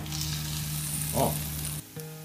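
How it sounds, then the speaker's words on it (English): Bacon sizzling in a pan as it is crisped on high heat, a steady close crackling sizzle with a low hum underneath, briefly dropping before resuming. "Really crispy bacon, just turn it up for the last 2 minutes."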